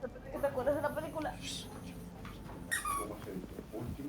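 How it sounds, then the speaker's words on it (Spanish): A dog whines and yelps in the background, high squeaky whimpers coming in short bursts beneath someone talking over game sounds. "tú tienes un perro ahí. Perro del diablo por cómo suena."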